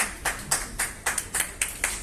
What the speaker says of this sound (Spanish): ¿Le damos un aplauso para que pase, no?